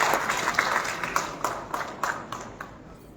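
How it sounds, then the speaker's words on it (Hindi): An audience at a women's banking-agent conference claps in welcome. The applause is a short, fairly close burst of hand claps with a few sharper rhythmic accents, fading slightly toward the end. "जोरदार तालियों के साथ उनका अभिनंदन करिए, स्वागत करिए"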